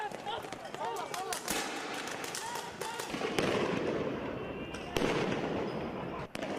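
Fireworks fired by demonstrators at police during an anti-government street protest, a rapid series of sharp cracks and bangs over a loud crowd din, with several louder reports standing out near the end.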